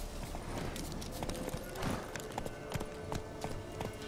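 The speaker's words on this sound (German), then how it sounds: "Ja, so ein beeindruckender Gaul." Horse hooves clip-clop steadily in The Witcher 3, a regular trotting rhythm of sharp knocks running throughout over a busy game ambience.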